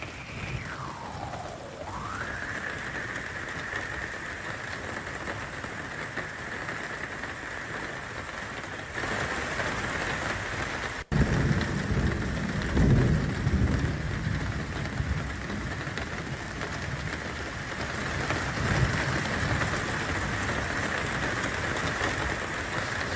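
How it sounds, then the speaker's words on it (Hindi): Heavy rain falls in Lucknow with a constant dense hiss. A steady high tone, at first sweeping downward and then back up, runs through it, and the downpour grows louder and rougher after the midpoint. "लखनऊ में और उसके आसपास के इलाकों में देर रात से ही बारिश हो रही है"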